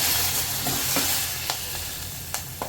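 Curry leaves spluttering in hot oil with garlic, turmeric, asafoetida and chilli for a dal tempering, a steady close sizzle broken by a few sharp pops and stirring scrapes, no voices.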